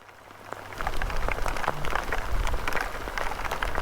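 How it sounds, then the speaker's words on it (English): Heavy rain of large drops begins to pour down, a steady dense hiss of drops drumming on surfaces close by. "Like the thickest rain I've seen. They're big drops, eh?"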